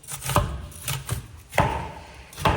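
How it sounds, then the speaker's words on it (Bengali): Onions are finely chopped by hand at an outdoor picnic cooking spot, a series of irregular sharp knife thuds on a board, close and distinct, with no voices. "সূক্ষ্মভাবে আমাদের পেঁয়াজ কাটতেছে রান্না বান্নার"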